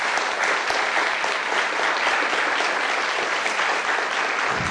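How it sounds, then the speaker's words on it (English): An audience at a city council candidate forum gives a round of applause for the candidates and moderator, with dense, even clapping sustained at full strength for several seconds. "So I invite you to join me in giving a round of applause to our candidates and to our moderator."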